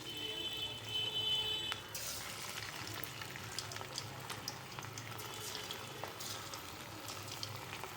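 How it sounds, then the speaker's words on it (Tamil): Marinated prawns drop into hot oil in a kadai for prawn 65 and fry with a bubbling, hissing sizzle that flares loudly at first, then settles into steady crackling with scattered pops. "இப்போ வந்து இதை ஆயிலில் போட்டு ஃப்ரை பண்ணிக்கலாம்"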